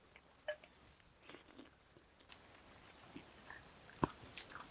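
Close, quiet chewing of an Andhra meal mouthful with crunchy onion pieces and okra, soft bites and a few sharper crunches scattered over a few seconds, no talk.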